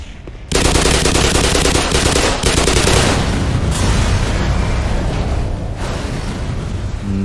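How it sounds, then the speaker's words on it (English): Gunfire and a large explosion in the Black Mesa shooter game: after a brief lull, a sudden loud burst erupts into a dense, sustained roar of rapid shots and rumbling blast noise that slowly fades, with no talking. "That was a big explosion."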